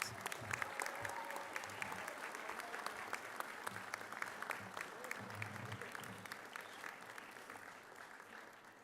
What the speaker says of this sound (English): So stand up and clap for them.